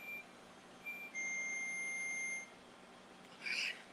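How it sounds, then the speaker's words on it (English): A kitchen timer goes off with faint, high, thin electronic beeps, a few short tones and one longer held tone, over quiet room hiss. "the timer's going off."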